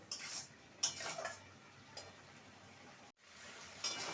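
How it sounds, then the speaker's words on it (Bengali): A spatula scrapes and clinks through vegetarian cauliflower stalk curry with sugar in a pan, stirred while the water cooks off. Several sharp metallic strokes come at irregular intervals, close and moderately loud, over a steady soft sizzle with no talking. "ভালো করে নেড়ে নেব জলটাকে পুরোপুরি শুকিয়ে নেব"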